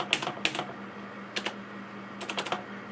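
Bursts of typing on a computer keyboard with a dead A key during a backup server setup, quick clusters of key clicks separated by pauses over a low steady hum.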